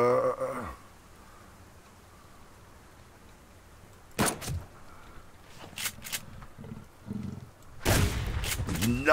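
Gunfire in the survival game Subsistence: one sharp broadband crack near the four-second mark, then fainter noisy bursts and a second loud report toward the end, over quiet outdoor ambience.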